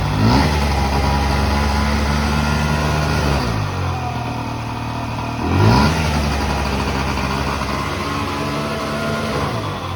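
A cold Honda Dio AF27 moped engine revving up and settling back twice, loud and close, with a steady buzzing drone between the revs as it holds high idle.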